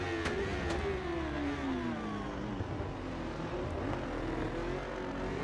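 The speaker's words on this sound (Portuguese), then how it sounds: "São 16 motos correndo." Sixteen S1000RR superbikes racing on a track, engines revving hard in a continuous, loud drone with rising and falling pitch as bikes accelerate and pass, no talk.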